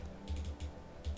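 Rapid keystrokes tapped out on a computer keyboard, coming in short clustered bursts with brief pauses, close and fairly quiet with no talking.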